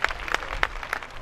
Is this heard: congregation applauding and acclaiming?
yes